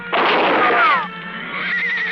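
A horse in an old Western radio drama whinnies loudly and shrilly as it bolts after a rifle shot, one long neigh followed by a quieter trailing breath.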